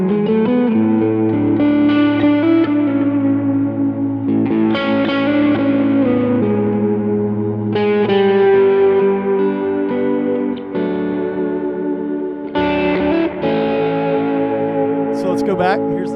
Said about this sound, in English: I'm going to add in the BB preamp.